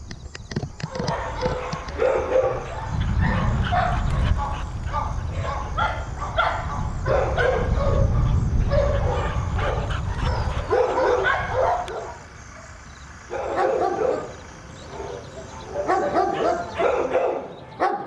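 Dogs bark repeatedly at an animal shelter where staff take them out to an exercise run, the barking dense and overlapping with other noise and voices in a busy, reverberant space.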